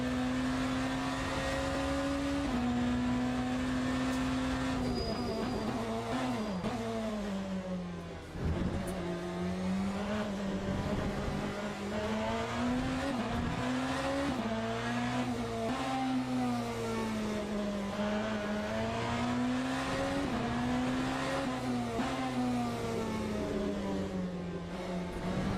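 A BMW hypercar engine in the racing game Le Mans Ultimate roars steadily and loudly at Fuji Speedway, its pitch rising and falling through gear changes with a brief dip partway, no voices.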